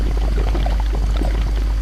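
In a horror video game, a toilet flushes and blood pours out of it, making a close, rushing watery gush with gurgling that holds steady over a low rumble for the whole short stretch.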